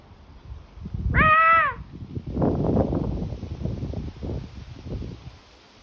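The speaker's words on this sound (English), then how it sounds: "there should be a common raven in here" A common raven gives one harsh, croaking call at a bird park, followed by rustling and soft shuffling nearby; the call is close and clear against a quiet background.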